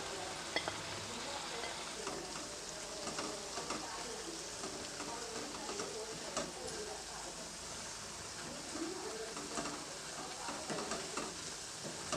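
Carrot halwa with fried raisins and cashews being stirred in a pan, a continuous soft sizzle broken by scraping stir strokes, with a voice talking over it.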